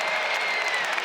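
A basketball arena crowd applauds and cheers loudly after a layup, a dense, sustained roar of clapping and voices from many people spread around the building.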